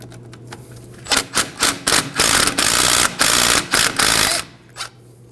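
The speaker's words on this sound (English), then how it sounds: "We'll go ahead and remove the 12mm backing plate bolts." A ratchet removing 12mm backing plate bolts on a 1993-2001 Subaru Impreza front hub clicks in quick bursts, pausing briefly between runs of rapid rattling, close up and fairly loud over a low hum.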